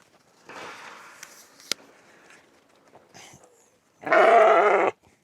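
Sheep on a farm, a soft bleat early on followed by a loud, close, sustained bleat near the end, with quiet shuffling between.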